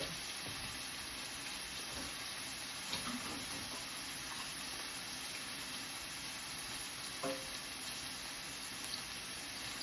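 Shrimp sizzling in a skillet, a steady bright hiss of frying that runs throughout. A few soft clicks and scrapes come through as tongs turn the shrimp over.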